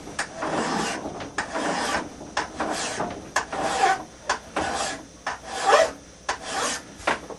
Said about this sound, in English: I'm not putting a whole lot of pressure with my right hand, just enough to keep the file flat against the bevel